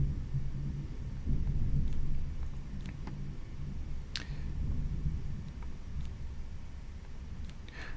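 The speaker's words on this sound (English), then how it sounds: "It's turning into a thunderstorm here where I'm living." A thunderstorm sends low thunder rumbling in the distance, swelling and fading over several seconds, with faint ticks and patter on top.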